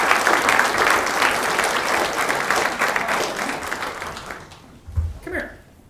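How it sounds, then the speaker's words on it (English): A school audience applauds Senator Rounds at a high school visit, with dense, lively clapping that gradually tapers off and stops, followed by a brief voice. "How about a round of applause?"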